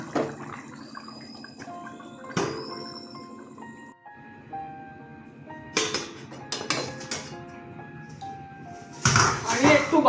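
A gas burner switched off and a metal lid set over a pot of fish-head murighanta, with clattering and clinking metal knocks and scrapes amid kitchen noise, while a person talks throughout.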